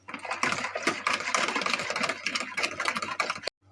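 Electric mixer whirring steadily as it blends crepe batter with two glasses of cold milk added, a continuous motor drone close by that cuts off abruptly near the end.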